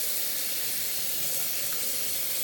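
Hot water runs steadily from a tap into a sink, a continuous close hiss and splash with no break, heard alone.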